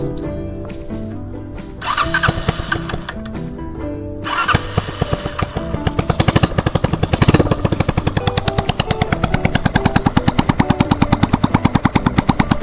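A hand-started three-wheeled motorcycle engine with a damaged exhaust pipe sputters and catches after a few manual kicks, then settles into a loud, rapid, rattling idle with a sharp, even putter.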